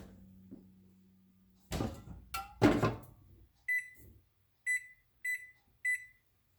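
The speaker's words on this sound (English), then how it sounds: "I'm going to set the timer for about half an hour." Oven timer being set: a few short button presses, then four evenly spaced bright electronic beeps, clear and close in a quiet kitchen after some clattering.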